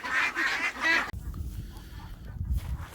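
Ducks crowded into a new pen built from an old polytunnel burst into loud, overlapping quacking for about a second, then fall to a low, restless murmur of faint calls and shuffling.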